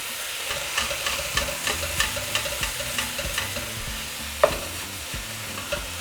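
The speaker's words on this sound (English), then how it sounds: "So now we're just going to break our meat down along with the longaniza" Minced meat and longaniza sizzling in a pan for Mexican espagueti ranchero while a spoon breaks it up, a constant fry hiss with regular soft knocks and scrapes and one louder clack, close and without voices.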